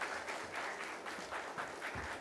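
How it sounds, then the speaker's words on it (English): A brief round of applause at a corporate talk on risk and compliance, moderately quiet and steady, with individual claps faintly pulsing through the crowd sound and no speech over it. "Sir, may we have a round of applause,"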